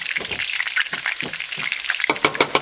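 Meatballs sizzle in a pan of tomato spaghetti sauce, a close, steady frying crackle with stirring scrapes and spoon knocks rising near the end.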